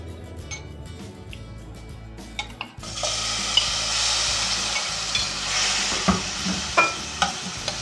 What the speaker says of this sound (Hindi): इसमें हमारा ये जो चिकन है हमने मैरिनेट करके रखा था इसमें ये डाल दें